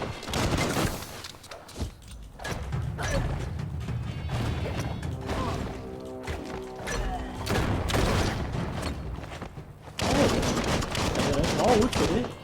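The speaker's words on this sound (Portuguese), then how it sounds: "Atirando também" Gunfire in the Biomutant video game, rapid bursts of shots mixed with mechanical clanks and crashes, loud and close throughout, with a voice speaking over part of the action.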